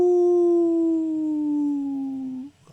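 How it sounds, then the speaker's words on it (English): A single long, sustained howl from a dog or wolf in a dark wood, one steady wavering tone that slowly sinks in pitch and then stops abruptly. "Off in the distance, a woof, a howl."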